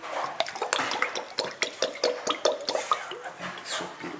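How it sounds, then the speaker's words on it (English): Olive oil is poured into a pot for a tomato and sweet potato risotto, giving a close, uneven run of soft drips and splashes with light clinks. "we will also add the olive oil"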